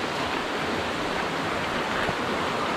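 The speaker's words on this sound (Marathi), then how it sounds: "खूपच पाण्याचा फ्लो वाढला आहे" Bhivpuri waterfall near Mumbai in heavy flow, a loud, close, steady roar of rushing water with no pauses and no voices.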